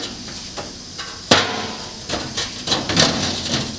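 A tray dropped into place in the bed of a Jetta MK4 ute conversion: one loud, sharp clank followed by several lighter knocks and rattles, close by and without talk.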